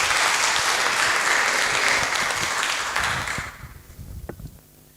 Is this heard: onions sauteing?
no